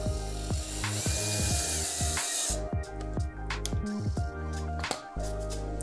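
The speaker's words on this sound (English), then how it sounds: "and then simply just attach the screw." A power screwdriver or drill drives screws while an ottoman is assembled, a whirring motor with a rising pitch and short pauses, then several sharp clicks and knocks of the driver and parts.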